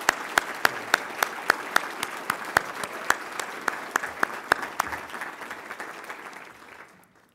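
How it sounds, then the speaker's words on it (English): A room at a campaign victory event applauds the helpful cabinet members, sharp individual claps standing out above a crowd's clapping that holds and then fades out near the end. "I want to give them all a round of applause, please."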